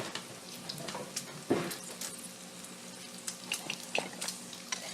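Lemon juice and wine hit a hot skillet to deglaze it, giving a steady close sizzle with bubbling and a few scraping thumps, with no talk over it.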